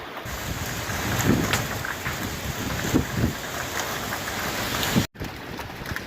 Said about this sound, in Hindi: बारिश भी होने लगा यार